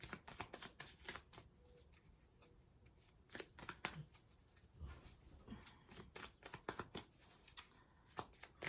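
Tarot cards being shuffled by hand, a run of quick, faint papery riffles and taps at close range, almost nothing else heard around them.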